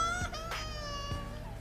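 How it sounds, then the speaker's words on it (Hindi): A child crying in a strange, eerie wail that echoes through a house at night, a drawn-out moaning cry with wavering pitch, steady and fairly faint, alone without talk. "एक बच्चे के बड़े ही अजीबोगरीब बेढंगे तरीके से रोने की आवाजें उर्मिला के घर में गूंजने लगी"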